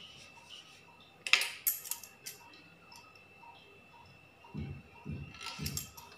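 A knife trims the excess sides off a rolled samosa dough sheet: a quick run of sharp, quiet taps on the board, then a few soft, dull thumps a little later, close by and with no voices.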